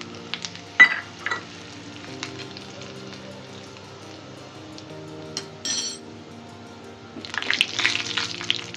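Chillies dropped into hot tempering oil for methi kadhi, with coriander seeds already in the pan, sizzle and crackle. There are a few sharp clinks early on, then a louder burst of hissing frying near the end, with no talk.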